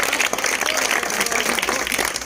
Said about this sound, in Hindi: एक बार तालियां जोर से।